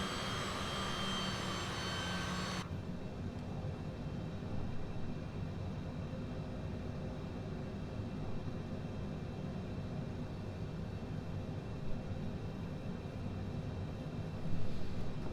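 Business jet engines from a Cessna Citation CJ4 taxiing toward the runway in Microsoft Flight Simulator 2020, a steady unbroken whine and rumble after a brief brighter opening, with no voices.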